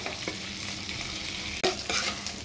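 Broken-up fish head frying in a pan, a close, steady sizzle with a couple of sharp stirring scrapes near the end and no voices.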